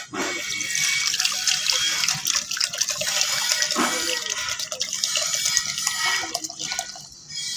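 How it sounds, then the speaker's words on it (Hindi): Nitric acid is poured into an alum mixture, a continuous close liquid stream splashing and hissing for several seconds with steady loudness, dropping off briefly near the end. "ये है मेरे पास शोरे का तेज़ाब, ये देख सकते हैं। ये आपके सामने मैं इसमें डालूँगा।"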